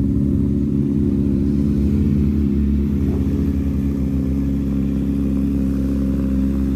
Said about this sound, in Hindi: भाई ये S1000 RR है भाई, साउंड सुनो भाई क्या साउंड है।